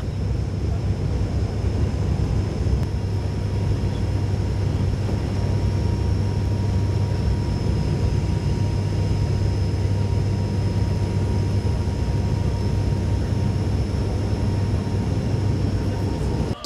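Constant loud roar inside the cabin of an Air Corsica airliner on landing approach to Toulouse, a steady low engine and airflow drone with a faint high whine, unbroken throughout.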